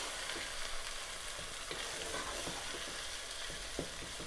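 Mutton mince fries with onions, ginger and garlic in a pan, making a faint, steady hiss of sizzling with occasional soft spatula taps, quiet and without talk.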